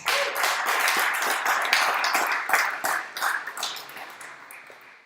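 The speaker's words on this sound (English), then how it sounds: "please give him a round of applause." Applause at a political congress, a dense wash of many hands clapping that starts strong and gradually thins out into scattered claps, with no talking.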